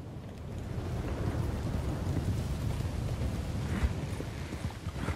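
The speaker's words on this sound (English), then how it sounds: "I like it when it rains." Rain falls steadily in Red Dead Redemption 2, a soft broad wash with low rumbling thunder beneath and faint hoof clops of a horse, fairly quiet and continuous.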